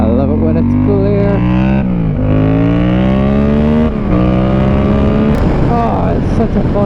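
A motorcycle rides at speed with its engine note climbing and dropping through several gear changes, loud and close throughout.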